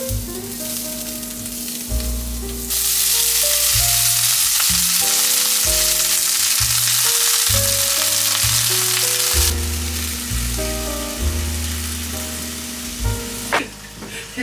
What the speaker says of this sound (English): take a little bit of oil, put it in my cast iron skillet, throw in the garlic, let that brown just for a minute